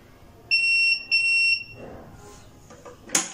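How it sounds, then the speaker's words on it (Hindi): A centrifuge machine under repair gives two long electronic beeps as its timer reaches zero, clear and close, followed by light handling clicks and a short sharp tap. "जब 0 पे चली जाएगी तो उसके बाद ये बीप देगी"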